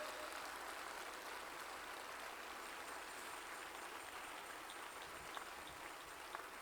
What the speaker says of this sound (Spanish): Denle un aplauso al Señor si usted se emociona también como yo.